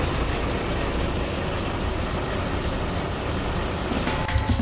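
Sri Lankan bus driving along with its door open, a steady loud roar of engine, road and wind rumble filling the whole stretch, with a brief clatter near the end.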